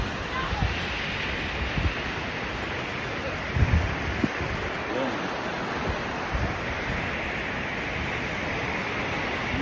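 Ocean surf rolls steadily at Bob Hall Pier in Corpus Christi, a broad continuous wash with a few slightly stronger surges, heavy wind buffeting the microphone throughout.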